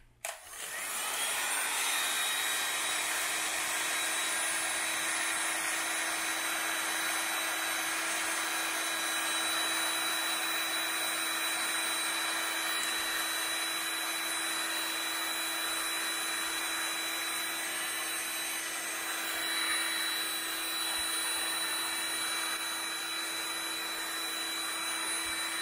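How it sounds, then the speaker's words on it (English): A heat gun shrinks plastic wrap around a stack of stickers, giving a steady close-up blowing whine with a constant high-pitched tone that runs unbroken and alone after a brief click at the start. "And then I can use my heat gun."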